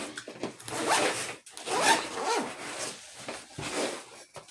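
A zipper is drawn open around a soft carrying case for a Lion Heart LH9 9mm pistol, with a close, raspy fabric pull in several strokes and small rubbing handling noises between them.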